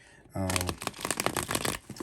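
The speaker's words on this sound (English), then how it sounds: "I'm gonna just go ahead and shuffle for you guys" A deck of tarot cards is shuffled close up, a rapid rustling riffle running for about a second and a half after a brief bit of speech.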